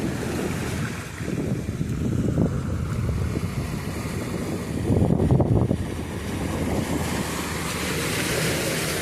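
Off Cheriazheekal beach, a boat towing another fishing boat drones under heavy wind gusts and crashing surf, the wash swelling briefly loud midway, with no voices.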